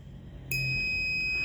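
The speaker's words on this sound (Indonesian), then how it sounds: "buzzer di sini akan menyala dan LED merah akan menyala juga" Intruder alarm buzzer on a motion-detection security simulation switching on abruptly after a quiet moment, then holding a steady high-pitched electronic tone alone.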